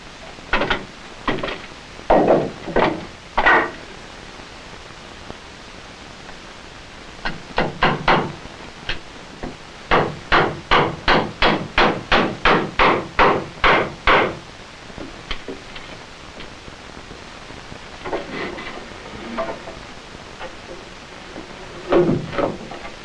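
Hammering bracing between wooden joists while building a family fallout shelter in 1960, a hammer knocks nails into wood in bursts: a few quick groups first, then a long steady run of about fifteen sharp blows, then scattered lighter taps.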